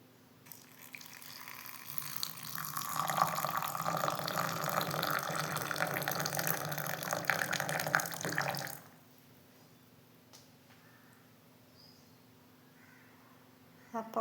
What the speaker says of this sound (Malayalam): ഇപ്പോൾ ഇതാ ഒഴിക്കുന്നുണ്ട്. തിളപ്പിച്ച വെള്ളമാണ്.